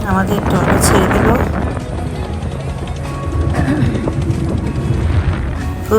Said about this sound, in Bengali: আমাদের ট্রলার ছেড়ে দিল।